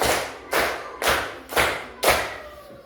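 Five sharp, loud hand claps land in a steady rhythm about half a second apart, each ringing briefly in a reverberant room.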